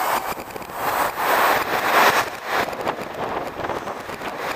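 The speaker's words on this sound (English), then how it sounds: "The gusts are super strong." Strong wind roars against the microphone in a continuous rush, surging louder in gusts around the middle before easing slightly, while a Walkera Rodeo drone flies outdoors.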